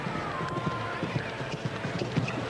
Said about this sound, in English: the horse is jumping better than she was in the first round